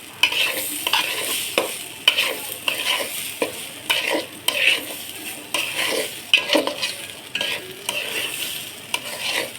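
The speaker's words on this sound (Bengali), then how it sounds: "এভাবে চাউলটা ভেজে নিলে পোলাওটা খুব ঝরঝরে হবে" Rice is stir-fried in a pan for pulao with ginger paste, giving a light sizzle under brisk, rhythmic scraping and clattering of a spoon against the metal, close and loud with no talking.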